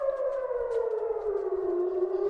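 An air raid siren wails during a missile attack in Israel, one loud, sustained tone that slides slowly downward in pitch and carries clearly over a quiet background.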